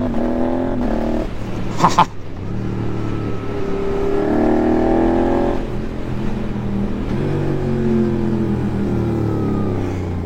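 A Suzuki GSX-8S motorcycle on an open road pulls hard in second gear, its engine note rising steadily and loud, with a brief mechanical clunk early on, then easing and climbing again as the rider rolls the throttle.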